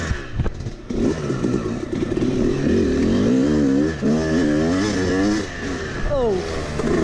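An older, slightly worn Yamaha YZ 250 two-stroke dirt bike engine revs loud and close, its pitch climbing and dropping in repeated bursts on a trail ride.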